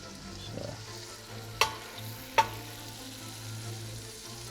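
Chicken for coq au vin sears in a pan with a soft, steady sizzle, quiet throughout, broken by two sharp clinks of a utensil against the pan midway.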